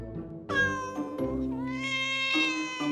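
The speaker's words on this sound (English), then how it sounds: "A cat!" A cat meows several times in quick succession, the calls drawn out, whiny and close, sounding alone with no voices over them.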